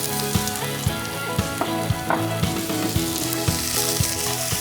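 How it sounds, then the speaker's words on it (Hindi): Onions sizzle in hot oil with a steady frying hiss and scattered crackles and pops, close and fairly loud, with no talking. "सबसे पहले हम ऑयल के में प्याज ले लेंगे।"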